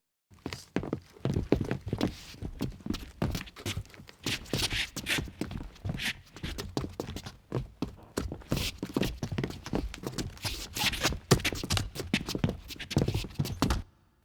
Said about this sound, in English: Next, I'll solo the footsteps.